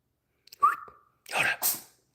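A pet cat sneezes twice in quick succession, a short squeaky inhale followed by two sharp, close bursts in an otherwise quiet room.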